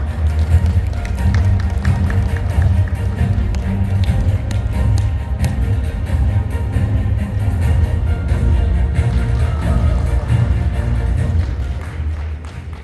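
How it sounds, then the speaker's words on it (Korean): An audience at a book concert in a Daejeon convention center exhibition hall gives dense, sustained applause to welcome a speaker, a steady roar of many hands with a faint murmur of voices. "여러분 큰 박수로 모시겠습니다"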